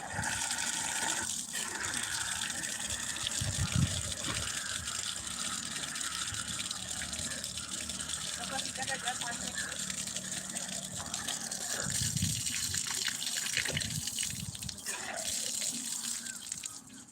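Water runs steadily from a tap at an ITI college, a continuous close gush that stays fairly even throughout.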